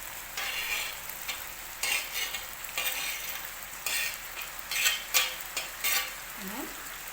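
Onions and peppers frying in a pan with meat for a stew, a constant sizzle broken by repeated scraping stirs and utensil knocks, close and fairly quiet.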